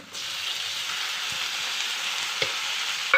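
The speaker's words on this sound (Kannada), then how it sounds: "ಈ ಸ್ಟೇಜಲ್ಲಿ ನಾವು ಟೊಮೊಟೊ ಸೇರಿಸೋಣ." Tomatoes join fried onions in a pan for a Karnataka okra huli saaru, filling it with a loud, even sizzle from start to finish, with a faint tap or two and nobody talking.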